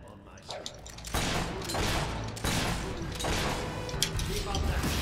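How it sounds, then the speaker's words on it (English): Rapid sustained gunfire in the Fable III video game, dense overlapping shots forming a continuous loud barrage that swells and holds, with a voice speaking over it. "Keep on that shooting, I'm going to get rid of them in no time."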